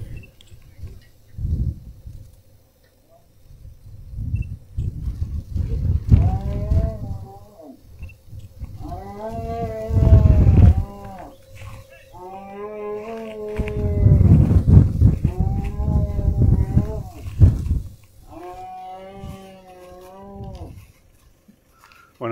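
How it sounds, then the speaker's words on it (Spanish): Cattle trapped inside an overturned livestock trailer after a road crash on Ruta Nacional 188 moo repeatedly, several long loud calls overlapping amid banging, rumbling and low background noise. "se escucha claramente el mugido de los vacunos que aún están en el interior de este acoplado"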